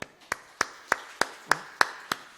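Church congregation clapping in unison during a Sunday afternoon worship service: eight crisp, evenly spaced claps in a steady rhythm, close and moderately loud, with no talking.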